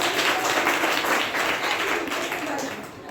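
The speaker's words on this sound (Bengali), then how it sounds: "জোরে আমরা হাততালি দিই।" A church congregation claps hands together during a Sunday service, a steady, dense patter of applause sustained throughout, with voices faintly mixed in.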